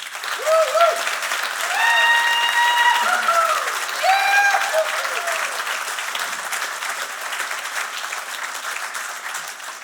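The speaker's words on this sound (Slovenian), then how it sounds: "Torej še en aplavz za folklorno društvo Kres." Sustained audience applause for the folk dance group Kres at a music school recital, a dense, steady wash of many hands, with a few voices and tonal sounds rising through it before it slowly fades.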